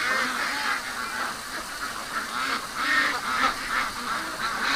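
A flock of ducks quacks continuously near a pond with bulrushes, many overlapping calls forming a steady, fairly loud chatter with no pauses.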